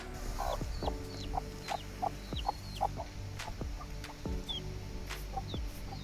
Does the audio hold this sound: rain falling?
no